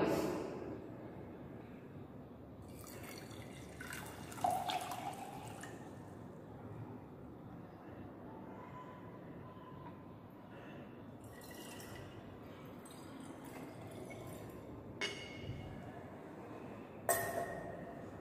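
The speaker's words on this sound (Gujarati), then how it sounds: "બીકરની અંદર હું ગરમ પાણી ઉમેરીશ," Hot water is poured into a glass beaker during a classroom copper sulphate experiment, giving a faint steady liquid trickle with a few soft glass clinks and splashes, quiet and close by.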